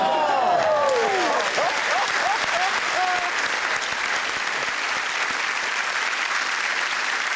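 Studio audience at a comedy panel show breaking into applause, a dense wash of clapping with laughter and a whoop at the start, steady and loud across the whole stretch.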